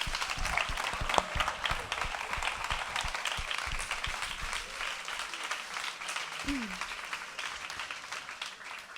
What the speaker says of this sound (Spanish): yo vuelvo a pedir un aplauso